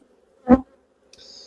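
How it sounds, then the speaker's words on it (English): Honey bees buzz around an open hive during an inspection, a short loud burst of buzzing close by, then a fainter higher whine after a brief quiet. "These bees are definitely pinging me."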